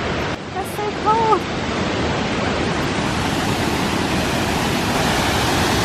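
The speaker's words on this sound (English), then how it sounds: "We've finally found the second waterfall out of four per day." A large waterfall in the Brecon Beacons National Park rushes loudly and continuously, a dense roar of falling water with a brief bird call near the start and no talking.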